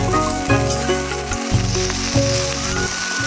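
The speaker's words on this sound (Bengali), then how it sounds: "এবার এর মধ্যে আমরা কেটে রাখা শাকগুলো দিয়ে দিচ্ছি।" Chopped sancha greens hit hot oil in a pan and sizzle loudly and continuously, with steady frying crackle throughout and no voices.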